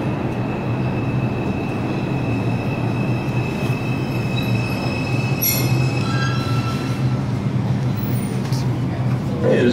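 A New York subway 2 train pulls into an elevated station, steel wheels squealing in long, high, wavering tones over a steady rumble of rolling cars, loud and close.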